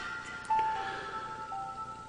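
A Samsung S3600 mobile phone plays its startup tone on restarting: a short, thin, high electronic melody of a few sustained notes, quiet and close, over faint background hiss.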